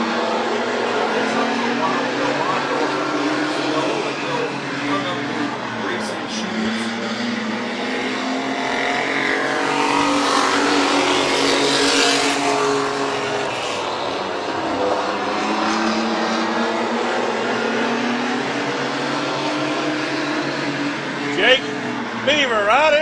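Racing trucks roar around the Midvale Speedway oval, their engines a loud continuous drone that rises and falls as they pass. An announcer talks throughout over the engine noise.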